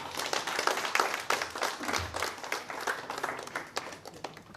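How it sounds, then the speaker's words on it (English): At a corporate cyber security event, a crowd gives a big hand. Lively, uneven applause with distinct individual claps rises and dips, and faint voices come through beneath it. "Just give me a big hand of applause."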